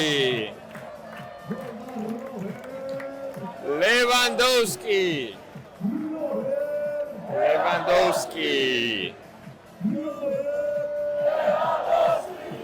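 A football stadium crowd gives Barcelona players an ovation, with loud chanting that rises and falls in sung waves and bursts of cheering and clapping.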